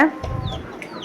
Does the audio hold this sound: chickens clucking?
yes